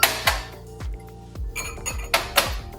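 Cocktail glasses set back onto a shelf, giving several sharp glass clinks and knocks in an uneven sequence, close by and fairly clear with no talking.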